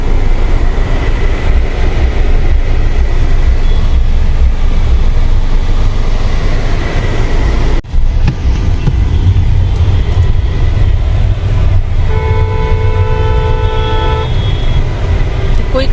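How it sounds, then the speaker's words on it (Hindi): City traffic jam with vehicle engines rumbling and horns honking, several distinct toots in the later part over steady road noise, nearby and fairly loud. "इस समय बहुत ट्रैफिक जाम होता है"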